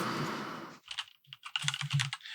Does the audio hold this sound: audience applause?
no